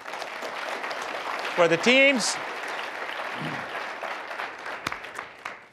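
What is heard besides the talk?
audience applause for debate teams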